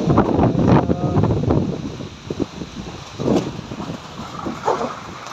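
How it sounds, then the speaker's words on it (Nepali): Strong wind buffets the microphone in loud, rumbling gusts that rise and fall, with rustling of a flower garden in heavy rain in the background. "हावाले चाहिँ एकदमै हल्लाइरहेको छ"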